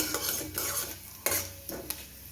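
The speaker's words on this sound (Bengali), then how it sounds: "তেলটা গরম হয়ে গেছে এর মধ্যে ফোড়নটা দিয়ে দিলাম" Tempering spices frying in hot oil in a wok: a faint sizzle under a few clattering metal scrapes and knocks of a spoon stirring, close and quiet with no talk.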